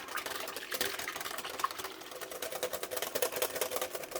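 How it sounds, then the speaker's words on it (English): Hand whisk beating whipped cream frosting for a strawberry cake in a bowl, a fast, steady rhythmic series of light scraping clicks close by. "I'm going to start whisking this until soft peaks form"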